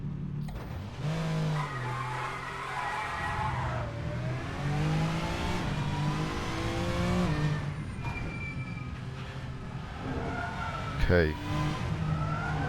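VRC Super Touring Car Pack touring car in Assetto Corsa, engine droning and revving with rising and falling pitch through gear changes, tires skidding and squealing, close and steady; a voice briefly speaks.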